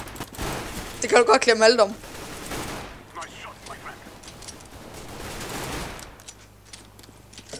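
Rapid gunfire from a CS:GO deathmatch, a dense burst of quick shots crackling for about a second before softer game noise continues under a speaking player's voice.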